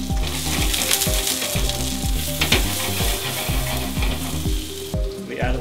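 Aromatics sauteing in oil in a restaurant pan make a loud, continuous sizzle, with rhythmic stirring and tossing scrapes and a low kitchen hum beneath, and no one talking.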